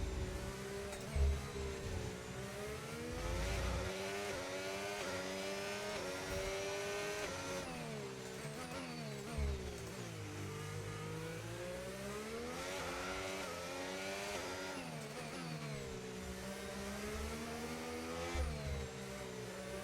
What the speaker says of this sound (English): the buildings are so close, so I can like hear the engine noise again.